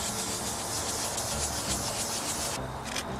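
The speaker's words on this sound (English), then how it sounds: "sand in circular motions" Fine sandpaper rubbing in circular motions over cracked, peeling car paint, a steady close abrasive hiss that continues without pause and eases slightly near the end, with no talking.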